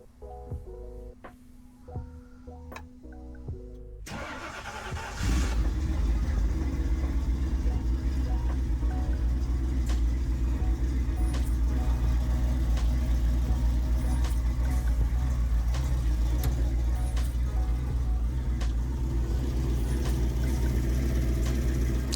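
An off-road vehicle fitted with new budget wheels starts up after some quiet clinks, then settles into a steady, loud, rumbling idle that holds for the rest of the stretch.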